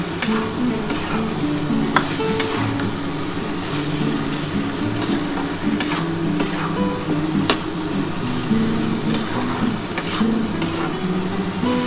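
Spice paste sizzles and is stirred in a pan for a Bengali hilsa-head and bottle-gourd-greens chorchori, with a steady close frying hiss, tonal hum and scattered sharp scrapes and taps of a spoon, no voices.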